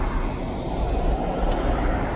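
A helicopter flies over a Saudi National Day celebration, its steady, loud low engine roar and rotor rumble filling the whole stretch without pause.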